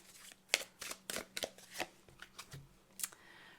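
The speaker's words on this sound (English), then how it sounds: "we're going to go ahead and just pull a couple more oracle cards for you" Oracle cards are shuffled and pulled from a deck in a quiet room, a series of crisp, close riffling snaps and slaps in irregular bursts with no talking.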